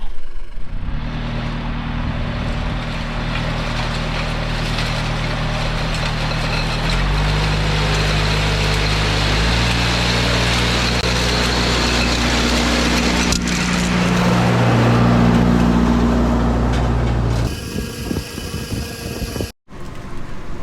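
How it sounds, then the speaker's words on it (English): An engine-powered trimmer running along a crop row in a field, a loud, steady engine drone whose pitch steps up and down as it works, then cuts off abruptly near the end, no talking. "we're gonna get trimming this row, and then I'll show you what it looks like after I trim it"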